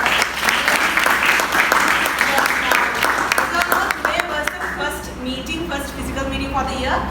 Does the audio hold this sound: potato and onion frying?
no